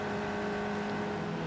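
Formula 4 race cars at the Macau Grand Prix passing on track, a steady high-pitched engine whine holding close and loud through the brief moment.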